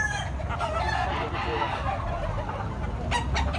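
Rooster crowing amid the busy clatter of a crowded chicken market, with clucking fowl and background voices chattering throughout.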